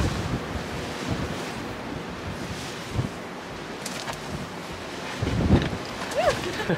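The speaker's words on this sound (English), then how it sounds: "It's so windy." Strong winter wind buffets the microphone on a rocky coast, with surf roaring steadily underneath, loud and continuous with gust swells near the end; faint voices break through briefly.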